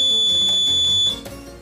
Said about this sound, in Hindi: ये सर्किट जो अलार्म दे रहा है